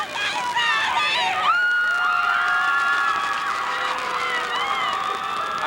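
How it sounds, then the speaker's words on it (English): The Rowdy Crowd, a rowdy cheering section on the Lewisville sideline at a high school football state championship against MacArthur, shouts and whoops loudly and close, sustained yelling voices overlapping throughout. "I think you can hear why they're called the Rowdy Crowd, Kevin."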